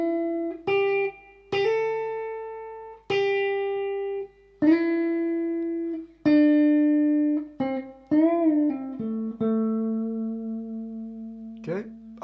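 Electric guitar lick, played slowly as separate plucked notes that ring out and decay, with a few bends and slides toward the end, alone and moderately loud.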